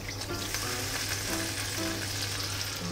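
Mirin and sake sauce heating in a pan to cook off the alcohol for a pork belly and enoki tofu roll glaze, a steady close bubbling sizzle with soft crackles throughout.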